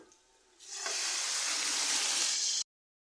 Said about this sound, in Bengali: রসুন কুচি আর দিয়ে দিচ্ছি মরিচ তেলের মধ্যে এগুলো ভেজে নেবো